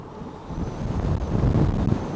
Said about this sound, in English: this wind is horrendous today